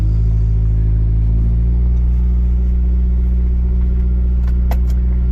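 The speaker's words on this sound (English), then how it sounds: "let's give this exhaust a nice leisurely test drive" A beater car's exhaust drones on a leisurely test drive, a loud, low steady rumble that settles into a constant cruising tone, with a couple of brief clicks near the end and no talking.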